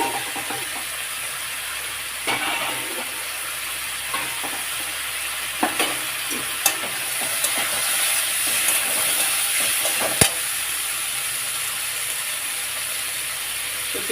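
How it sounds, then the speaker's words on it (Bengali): Potatoes and boiled papaya frying with ginger in a pan, a constant close sizzle and hiss broken by occasional stirring clinks and scrapes. "এর মধ্যে আলু দিয়ে দিলাম, ভাজতে থাকবে"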